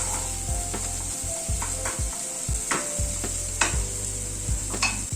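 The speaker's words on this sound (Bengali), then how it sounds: "মশলাটা দিয়ে জাস্ট মিনিট খানেক একটু নাড়াচাড়া করে নিলাম।" Spice masala for a Coorg-style paneer curry is stirred in a hot pan, with a constant sizzle broken by repeated rhythmic scraping strokes of a spatula against the metal, close and clear without speech.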